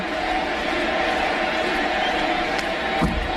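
Baseball stadium crowd at a 1998 Cubs game in St. Louis, yelling for Sammy Sosa at the plate: a steady, dense roar of many voices throughout, with a brief louder swell near the end.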